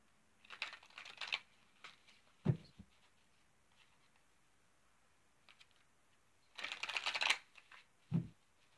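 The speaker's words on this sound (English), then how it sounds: "Give me just a moment while I shuffle the cards" Two short bursts of rapid riffling, cards being shuffled close by, each followed by a soft tap as the deck is squared, with quiet pauses between.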